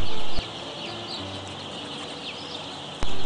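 Broiler chicks being lifted out of their delivery box keep up a faint, busy chorus of high cheeping behind a steady background hum, with a couple of short louder bumps at the start and end.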